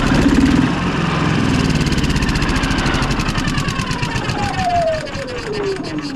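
A Yamaha EF4500iSE inverter generator that won't start is cranked continuously, a loud, even rhythmic churning that never catches, while a falling tone drifts down across it.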